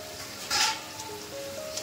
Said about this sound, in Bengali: ধোকার ডালনা করার জন্য ধোকা বসিয়ে দিয়েছি ভাজতে